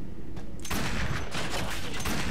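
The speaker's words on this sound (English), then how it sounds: "This would be pretty hard if I didn't have a pretty nice hand cannon." Loud, dense bursts of heavy hand cannon gunfire in the video game Warframe fill the clip, a rapid rumbling volley close up with booming low end and no speech.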